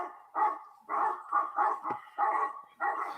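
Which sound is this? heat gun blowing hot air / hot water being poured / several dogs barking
several dogs barking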